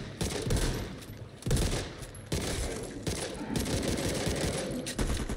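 Dense gunfire in Call of Duty on the Nuketown map, loud overlapping bursts of automatic fire and explosive cracks continuing throughout, close and heavy with no clear talk.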